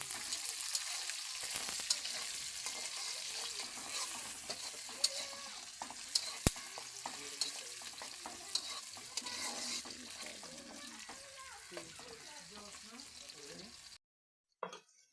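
Potato ghugni ingredients fry in a pan with a constant hiss and frequent clattering stirs of a spoon against the pan, close and moderately loud, before the sound cuts off near the end.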